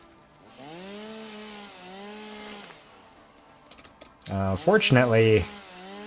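A chainsaw in the video game Satisfactory revs loudly through a short burst of cutting near the end, after a stretch of someone talking.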